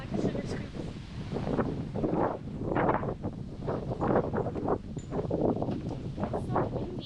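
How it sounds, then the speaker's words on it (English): Wind gusts across the deck of a 1999 custom-built 65 ft sailing catamaran, buffeting the microphone in rough, uneven rushes that swell and fade throughout, with muffled voices faintly underneath. "It's so windy."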